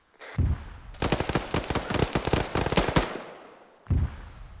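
Rapid bursts of automatic gunfire rattle out during a squad training session, a dense string of loud shots lasting a couple of seconds, with brief lower thuds and a voice heard before and after.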